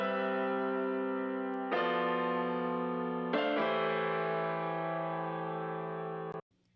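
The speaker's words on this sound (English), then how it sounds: "It's panning to the left side, a piano type of sound." Electric piano layer panned to the left in an FL Studio production, sustaining three held chords that change at steady intervals, processed with chorus and distortion-like effects, loud and close with no voices, cut off abruptly at the end.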